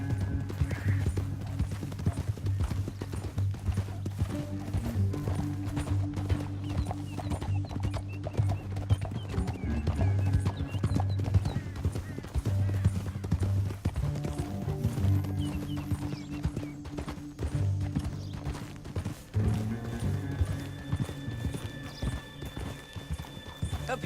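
Horses' hooves clip-clop steadily and continuously while riding in Red Dead Redemption 2, a rhythmic clatter of several horses close by, with occasional whinnies and snorts mixed in.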